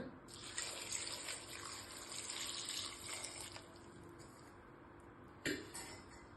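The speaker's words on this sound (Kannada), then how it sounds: "ನೀರು ಹಾಕೊಳ್ಳೋಣ." Water pours steadily into a cooking pot while bisibelebath is being prepared, a continuous close splashing stream lasting several seconds that then thins out, followed by one brief clunk near the end.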